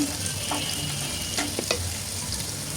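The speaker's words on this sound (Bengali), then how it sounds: "হালকা করে ভাজবো এই তো তেলে দিয়ে নাড়াচাড়া করে ভেজে নিচ্ছি" Onions fry in hot oil in a pan and are stirred: a steady, close sizzling hiss runs throughout, broken by a few light scraping stirs, with no talking.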